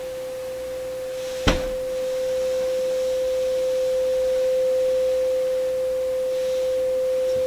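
A steady, pure test tone plays through an Electrohome Acoustech speaker, model E00411 or E00412, holding an unchanging pitch throughout, with a single sharp click early on and faint background hiss.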